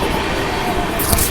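An express train rumbles and clatters past while overtaking the Mangala Lakshadweep Express, heard from aboard the Nizamuddin–Pune AC Duronto Express, with a loud continuous roar and a sharper hiss of passing cars near the end.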